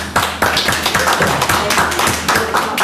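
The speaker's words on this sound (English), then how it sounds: "I think we give them a big round of applause." A round of applause at a county commission meeting, a steady run of fairly close, distinct hand claps from a modest group, continuing evenly for a few seconds.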